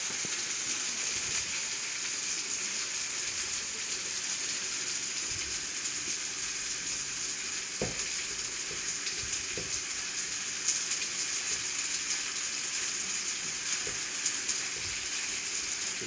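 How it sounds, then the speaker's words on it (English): Onions searing in a pan give a steady, close sizzle and crackle with scattered pops and a few stirring knocks, no voices. "Stir these onions up. Now I like my onions a little seared."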